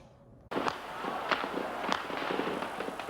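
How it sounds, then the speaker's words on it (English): Gunfire in Tiananmen Square, Beijing, in 1989 cracks out in irregular bursts from several directions over a noisy background of crowd and street din. "The noise of gunfire rose from all over the center of Peking."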